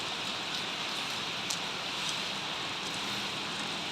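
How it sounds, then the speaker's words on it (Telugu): Heavy rain falls outdoors near a house, a dense, even hiss of downpour that stays constant at moderate loudness, with a few faint drops or taps standing out and no voices. "బాగా పడుతుంది వర్షం చూడు."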